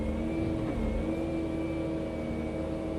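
Excavator engine running steadily at a work site in a forest, a loud continuous mid-pitched drone with a faint whine on top, no voices.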